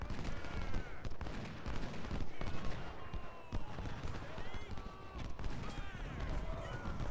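Civil War musket fire crackles across a battlefield in Ultimate General: Civil War, irregular volleys and scattered shots popping at mid distance among shouts and a low battle din.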